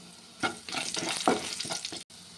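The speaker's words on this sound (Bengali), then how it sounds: "এবারে আলু ভেজে নিতে হবে" Potatoes frying in oil in a wok with salt added, a moderate crackling sizzle broken by several stirring scrapes and a brief drop-out near the end.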